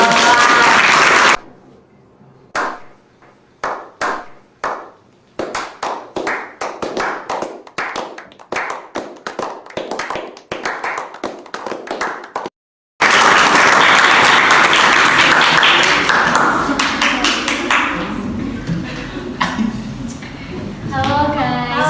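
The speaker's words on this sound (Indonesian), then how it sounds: "tepuk tangan." A small group at a school podcast recording claps to welcome a guest: a few scattered hand claps build into a quick burst of clapping, then a brief gap, and loud continuous clapping follows with voices and cheering mixed in.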